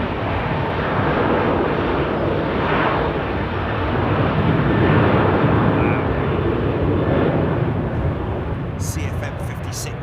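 A jet airliner with CFM56 engines taxis at London Heathrow, a loud broadband engine roar that rumbles steadily and close throughout, with a few brief higher sounds near the end.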